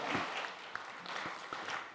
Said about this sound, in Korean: 우리 큰 박수로 하나님 앞에 영광 돌리겠습니다